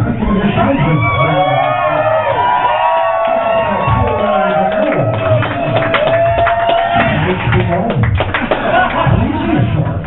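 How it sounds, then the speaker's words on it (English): A wild crowd at a live comedy show cheers, whoops and claps in a loud continuous roar with scattered shouts. "Wild crowd."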